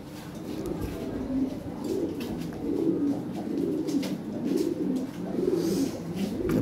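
Pigeons coo steadily in a breeding loft, a dense, continuous low burbling from several birds close by, with no pauses across the whole stretch.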